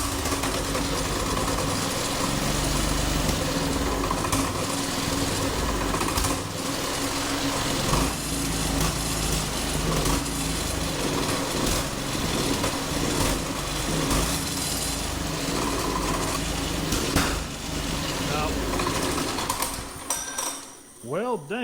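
An old go-kart engine turns over and runs roughly, a loud, close, buzzing putter that fluctuates throughout before cutting out at the end, with some talk over it.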